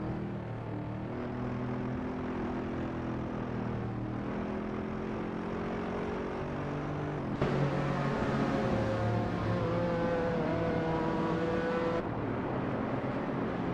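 AI-driven race cars circle a track in a racing video game, a continuous layered engine drone with shifting pitches from several cars at once, steady and fairly loud with no talk.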